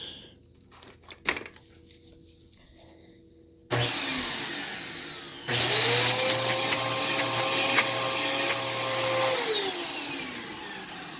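An upright thrift store vacuum cleaner with a snapped belt starts with a click and whirs into a loud steady roar, its motor pitch shifting as the free-spinning brush runs, after some quiet handling noises.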